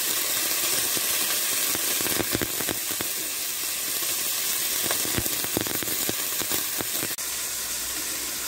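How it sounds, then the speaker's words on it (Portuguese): Ossobuco sears in a hot pan, a loud, steady sizzle and crackle of fat with sharp popping spatters, close up and continuous. "Então, começamos dourando o nosso ossobuco."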